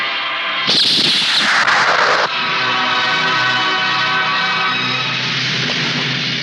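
A loud burst of rapid gunfire in a Hindi comedy film scene cracks for over a second, then gives way to a sustained, droning musical hum.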